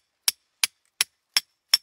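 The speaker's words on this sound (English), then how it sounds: "So you're just gonna hammer those in." Five sharp, evenly spaced metallic strikes ring out as a hammer drives rebar stakes into the ground to anchor a leg trap. Each blow is crisp and isolated, with silence between them.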